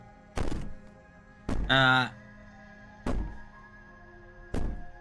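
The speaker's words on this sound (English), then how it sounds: "Maybe the banging and wailing will stop if you just don't pay attention to it." Heavy banging from Slay the Princess comes as four separated, resonant thumps spread over several seconds, like blows against a door. A short wailing cry sounds between the second and third blows.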